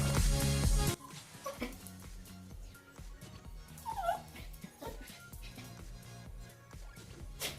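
A dog whimpers and yips in short, high, uneven bursts at close range after a brief louder noise, with soft whines scattered between the yips.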